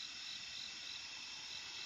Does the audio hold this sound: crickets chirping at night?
yes